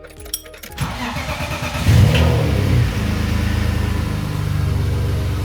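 A BMW E30's engine cranks and catches, roars briefly as it revs, then settles into a steady running hum.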